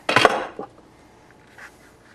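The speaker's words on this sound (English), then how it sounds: "then I just take a rolling pin and roll around the edge of the pan, and it'll cut off the excess" Rolling pin pressed and rolled around the rim of a metal pizza pan, trimming off excess dough: a loud scraping clatter at first, then fading to faint rubbing, with a small scrape later.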